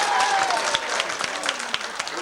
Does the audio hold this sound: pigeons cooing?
no